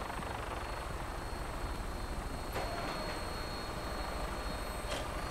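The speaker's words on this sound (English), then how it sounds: "I do like vertical takeoff planes." Vertibird aircraft engine from Fallout 4, a steady, loud rotor-and-turbine roar. It holds level for several seconds, close and continuous, with faint clicks on top and no talk.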